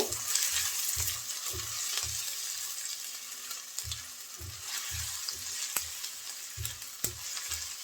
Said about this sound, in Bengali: এখন এই তেলের মধ্যে দিয়ে দেব আদা কুচি এবং রসুন কুচি আদা এবং রসুন কুচি একটু ভেজে নেব